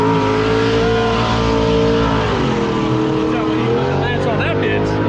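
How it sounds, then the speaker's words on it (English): Race car engine at a no-prep drag event, a twin-turbo Z06, revs loudly and continuously with a rough, raspy drone suggesting an exhaust leak, with voices faintly underneath. "You got an exhaust leak?"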